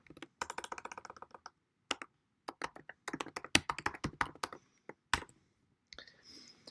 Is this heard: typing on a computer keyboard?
yes